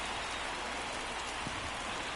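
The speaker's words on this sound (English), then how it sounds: "The rain coming down," Steady rain hiss from a baseball video game, a Mets at Cleveland Guardians franchise-mode matchup, falling as a constant, even wash of droplets with no talk over it.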